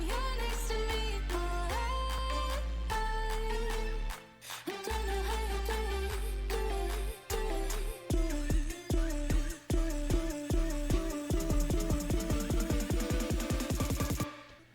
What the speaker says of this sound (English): This build up, of course, is just the vocal chopped.